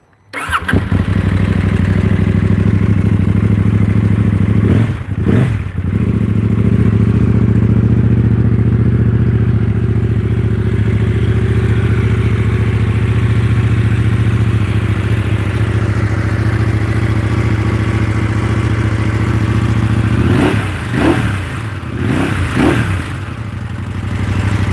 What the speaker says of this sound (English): So Desert Dave says start the KTM.